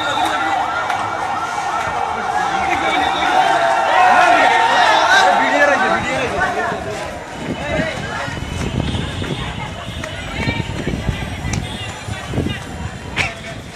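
A fire service siren wails at a morning road accident scene in Mirpur, loud and sweeping in the first half, then fading under a noisy crowd with shouting voices and scattered knocks.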